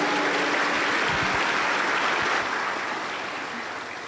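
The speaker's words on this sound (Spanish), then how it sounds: "la vamos a recibir con aplausos fuertes para Cristo Jesús" Strong applause from a church congregation during an early-morning vigil, welcoming three sisters, a dense wash of clapping that gradually fades toward the end.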